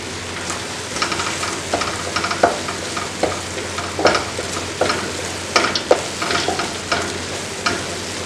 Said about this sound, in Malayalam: ഇല, കുറച്ച് പുതിന ഇല ഇട്ട് നന്നായി ഒന്ന് മിക്സ് ചെയ്യുക.